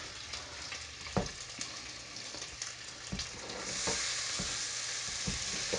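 Vegetables for paella fry in a pan, a constant close sizzle punctuated by sharp stirring knocks and scrapes at an irregular pace, with the hiss swelling toward the end.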